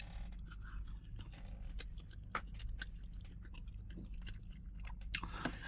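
Someone eating breakfast, chewing and biting food close to the microphone with soft crunches and wet mouth sounds over a low background hum.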